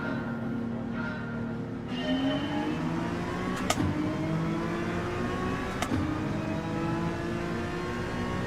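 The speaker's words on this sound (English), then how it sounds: "The acceleration off the start." A race car in Gran Turismo 7 accelerates off the start, its engine steadily revving and rising in pitch through gear changes, mid-distance and moderately loud with other cars whirring around it.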